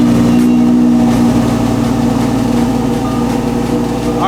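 A rebuilt, previously wrecked 2018 Lamborghini Huracan Performante Spyder engine running at a loud, steady idle nearby, its throbbing rumble continuous throughout.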